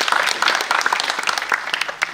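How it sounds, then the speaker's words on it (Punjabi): Dense audience applause at a Punjabi movie trailer launch, with many hands clapping in a steady, fairly loud wash that lasts throughout and shows no speech over it. "ਇੱਕ ਵਾਰ ਮੈਂ ਚਾਹਾਂਗਾ ਤੁਸੀਂ ਤਾੜੀ ਜ਼ਰੂਰ ਮਾਰਦੇ"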